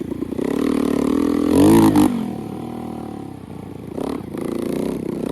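Homemade bicycle fitted with a moped engine, revving hard with a buzzing two-stroke note that rises to a loud peak, drops back to a steady idle, then climbs again, close by.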